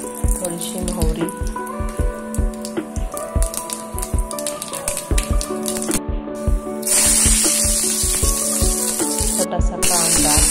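Mustard seeds splutter in hot oil in a kadhai, sharp crackling pops scattered over a hiss that swells into a loud continuous spray-like sizzle near the end, heard close with background music.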